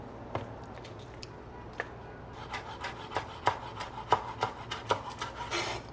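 A knife saws through a soft homemade bread loaf baked in a Dutch oven, making quiet close-up rasping strokes: a few isolated cuts at first, then a steady, quicker run of scraping passes toward the end.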